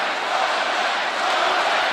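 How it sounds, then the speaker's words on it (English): A large boxing-event crowd roars steadily for Logan Paul in his bout with Dillon Danis, a dense, loud wall of cheering with no break. "Now the crowd's turned back to Logan."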